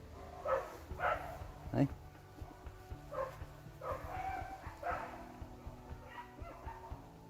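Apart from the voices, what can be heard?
dog barking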